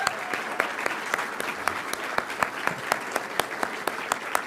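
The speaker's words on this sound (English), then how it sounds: "How about one final applause for all our award winners tonight?" An audience at a South Salt Lake State of the City event gives a round of applause for award winners, steady clapping with sharp individual claps standing out throughout, moderately loud and without speech.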